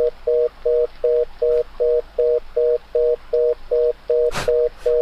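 Repeating ringback tone of a phone call to the police emergency number 110 in the horror video game Your Toy, evenly spaced double beeps going unanswered, with a brief noise burst near the end.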